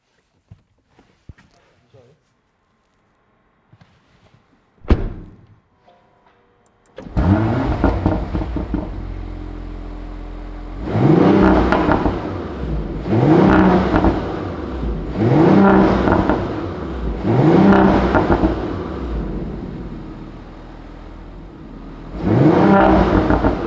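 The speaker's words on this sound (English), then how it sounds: "Let's turn this car on and see what it sounds like." After a few clicks and a thump, an Audi RS5 V6 hybrid engine starts and idles, then revs up repeatedly in loud surges that drop back between bursts.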